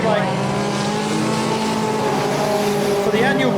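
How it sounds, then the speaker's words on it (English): Top Star Junior Sedans race around a speedway oval, their engines roaring loudly and steadily with tire noise as cars pass, while an announcer talks over the action. "All the cars spread out around the raceway"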